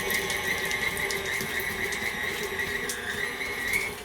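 An electric mixer creams butter and sugar for cookie dough at low speed, giving a steady, close motor whir with a faint squeal and light rattling from the bowl, continuous and without talk.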